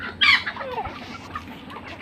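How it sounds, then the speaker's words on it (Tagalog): A few chickens cluck and squawk close by while eating, with a sharp burst near the start and softer clucks after, over a low background murmur. "Kain ng mga manok."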